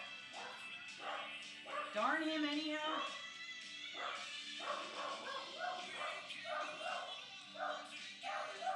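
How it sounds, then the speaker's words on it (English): A dog barks and yips repeatedly at close range while a person talks over it. "hope that the dog will eventually stop barking"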